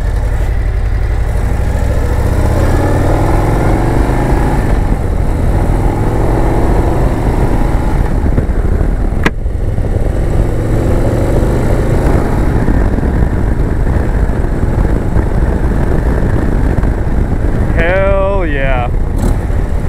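Harley-Davidson CVO Road Glide ST riding through misty morning streets of Daytona Beach, a loud continuous engine drone with wind rush that holds steady for the whole stretch, with a brief tonal blip near the end.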